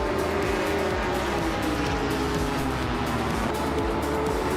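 BMWs, Ferraris and an Aston Martin racing at Monza in a racing video game, a loud, unbroken engine roar with layered car sounds, close and steady, with no voices.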